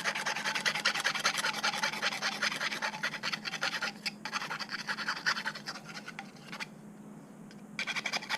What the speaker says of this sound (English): while we have the rasp, we're going to go over the outside, or should I say inside edge here